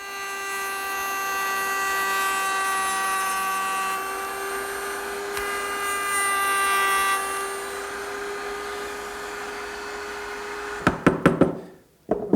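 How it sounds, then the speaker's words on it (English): A router table with a mortising bit cuts a wood bead from a corner cupboard part, giving a loud, steady high motor whine that holds for about ten seconds, then a few sharp knocks as it winds down. "I'll remove that using the mortising bit in my router table"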